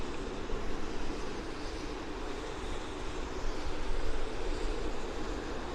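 A Boeing airliner takes off from Vancouver International Airport, a loud, steady jet roar that holds strong throughout and swells slightly near the end.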